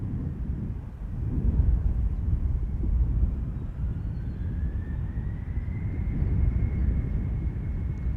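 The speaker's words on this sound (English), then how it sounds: "the Embraer is pulling up" An Embraer airliner departs Amsterdam Schiphol Airport runway 36L, a steady distant roar of jet engines with a faint rising whine, carrying on evenly with no voices.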